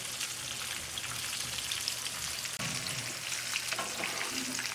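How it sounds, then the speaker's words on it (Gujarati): Paneer cubes coated in cornflour and maida sizzle and crackle in hot oil in a kadai, a steady dense frying hiss heard alone throughout. "આ રીતે આપણે મીડિયમ ગોલ્ડન રંગના થાય ત્યાં સુધી આ પનીરને ફ્રાય કરી લેશું"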